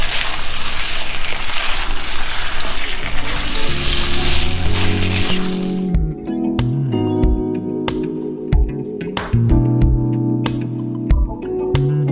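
Shrimp pasta in white wine sauce sizzles loudly in a pan as it is tossed, a dense hiss for about six seconds before music with plucked notes takes over.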